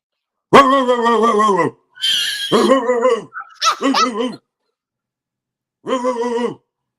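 A man imitates a dog with drawn-out, voiced barking howls in several bursts, separated by a short pause and a longer gap.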